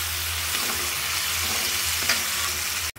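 Garlic, onion, cumin and ginger pastes fry in hot oil for a spicy liver bhuna, giving a steady close sizzle with a low hum and a brief stir near two seconds, then cutting off abruptly at the end.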